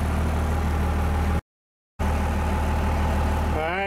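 A car engine runs at a steady idle with the alternator field grounded so it charges hard, a loud close drone that cuts out briefly, returns, and rises slightly in pitch near the end.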